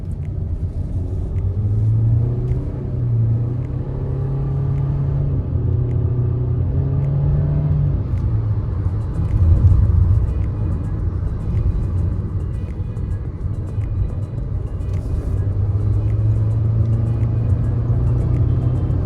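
A 2024 Hyundai Creta with an IVT gearbox accelerates at full throttle, its loud engine drone rising in smooth stepped sweeps with road rumble underneath, sustained close up for the whole stretch with no talking.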